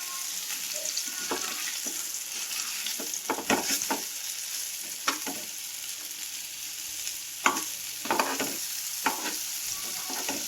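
Jitada fish being stirred and fried in a pan, with a steady sizzle of oil broken by repeated scraping stirs of a spatula, close and moderately loud, with no talking.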